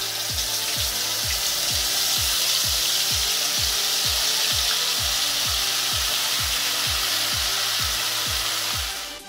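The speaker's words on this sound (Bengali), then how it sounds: "পেস্টটা করে রেখেছিলাম, জিরা, লঙ্কা, আদা, পোস্ত, কাজু বাদাম, এটা এবার কষিয়ে নেবো ভালো করে" A spice paste of cumin, chili, ginger, poppy seed and cashew is sautéed for paneer butter masala, with even, rhythmic spatula scrapes about twice a second over a constant hot-pan sizzle.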